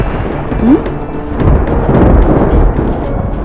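Thunder rumbling ahead of rain, a broad low roll that swells and lingers over a couple of seconds, loud and close with a faint patter underneath and no voices.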